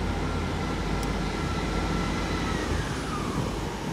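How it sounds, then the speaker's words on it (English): Great Western Railway Class 159 diesel unit 159108 pulls out of Exeter St Davids station on a Saturday evening, a steady, loud, broadband rumble and hiss that holds level throughout with no voices. "Oh, that's our Western Railway train leaving"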